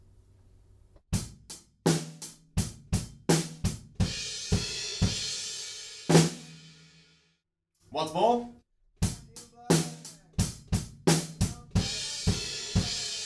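Drum fill from the chorus of a song, played on a kit with flams: a run of sharp, loud hits and crashes in a driving rhythm, a short pause, then more punchy strikes; one brief spoken phrase comes in the middle.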